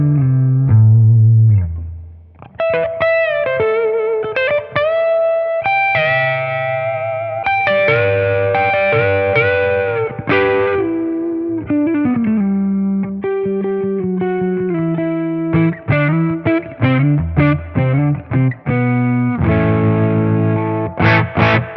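An electric guitar runs through a Flattley Centurion transparent overdrive pedal at low gain into an amplifier's spring reverb, playing sustained chords and single notes with a warm, lightly driven tone and a lingering reverb tail, loud and alone.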